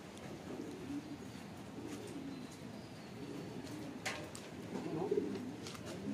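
Pigeons coo softly in a steady, repeated rhythm, fairly faint against a quiet outdoor background.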